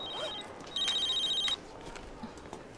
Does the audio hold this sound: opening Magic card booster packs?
no